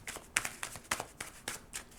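Tarot cards being shuffled close up, a quick series of crisp riffling snaps, about eight in two seconds, soft and alone.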